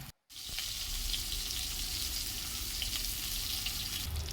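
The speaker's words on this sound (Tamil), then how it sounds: "நல்லா பொரிஞ்சு வந்துட்டு இருக்குது" Chicken leg pieces deep-frying in hot oil, a steady, even sizzling hiss that starts abruptly after a brief silence and continues at moderate level without talk.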